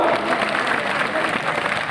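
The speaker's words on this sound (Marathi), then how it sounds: "त्या बाबासाहेबांच्या नातवासाठी एकदा जोरदार टाळ्या होऊ द्या" A crowd at a political rally on social justice and constitutional rights applauds loudly, a dense continuous clapping that fills the whole moment without pause.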